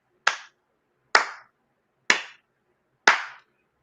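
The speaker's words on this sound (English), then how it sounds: "I give you the slow clap" Four slow, evenly spaced hand claps ring out clearly, each a crisp single smack with a short decay and silence between them.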